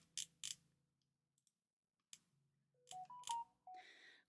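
A phone gives off a short run of electronic notification tones, a few quick beeps stepping up in pitch after some light clicks and taps, fairly close and alone with no talking.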